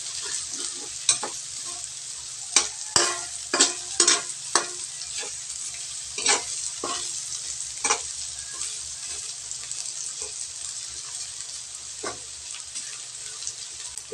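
Tilapia browning in a hot pan for a tausi dish gives off a steady close sizzle, broken through the first half by a run of sharp scraping and clinking stirs that then ease off, with no one talking.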